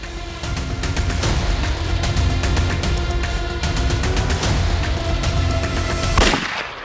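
Loud, sustained gunfire fills a tense crime drama scene, a dense continuous barrage with booming impacts that holds steady for about six seconds before cutting off abruptly.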